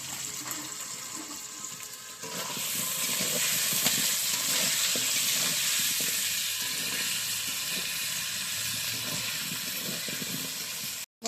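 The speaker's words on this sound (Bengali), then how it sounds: "বন্ধুরা এবার আলুটা ভাজা হয়ে গেছে," Potatoes fry in a pan, giving a steady, close hiss and sizzle that swells after the first two seconds and holds loud until an abrupt cutoff.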